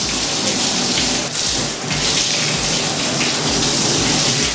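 Water hose spraying inside an open combi steamer oven during a light rinse in a kitchen, a steady, loud, broadband hiss of water striking the metal cavity that runs continuously with slight surges.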